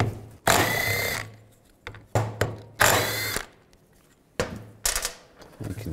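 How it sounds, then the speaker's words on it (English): Power tool spinning out four bolts with a 10 millimeter socket to remove the radiator cooling fan blade from a 2005-15 Nissan Xterra on a bench. It comes as several short, loud whirring bursts separated by brief pauses and small clicks. "I'm going to take these four bolts out. Use a 10 millimeter socket."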